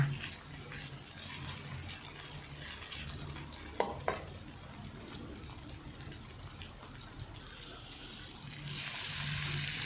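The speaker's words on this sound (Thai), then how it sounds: "เราก็ผัดกุ้งให้สุกนะคะ" Shrimp are stir-fried in a pan for spaghetti drunken noodles, making a soft, steady, hissing sizzle. Two quick utensil clicks come near the middle, and the frying grows slightly louder toward the end.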